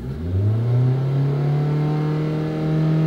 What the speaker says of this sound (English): Let's rev it up and see what happens.